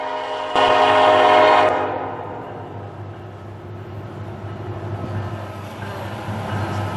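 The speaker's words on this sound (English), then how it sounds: "we caught a northbound NS freight train being led by Union Pacific Power" A northbound Norfolk Southern freight train led by Union Pacific locomotives at a road crossing sounds a loud horn blast near the start, then rumbles steadily as the cars roll past close by.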